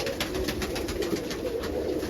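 English short-faced tumbler pigeons coo in a loft, with soft, continuous overlapping cooing pulses from several birds close by and no talking.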